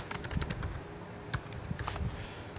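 Keys patter on a computer keyboard in quick, uneven bursts, close by and fairly quiet, with brief gaps between strings of keystrokes.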